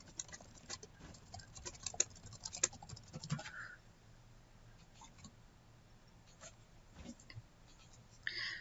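A note is typed on a computer keyboard in quick, faint clicking bursts, pausing midway before a few more keystrokes.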